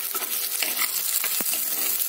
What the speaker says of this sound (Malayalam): വഴറ്റിയെടുക്കാം നമുക്ക്.